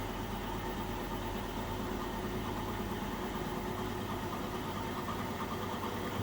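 An Indesit washing machine (WMS E15) spins up toward 1400 RPM, producing a constant loud motor and drum hum with steady vibration and no voices.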